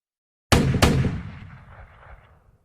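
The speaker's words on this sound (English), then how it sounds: "Gunshots broke the quiet night" Two sharp gunshots at night, fired close together and loud, each followed by a long echoing decay that fades over about two seconds.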